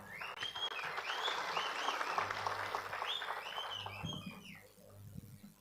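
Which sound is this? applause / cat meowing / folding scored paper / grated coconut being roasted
applause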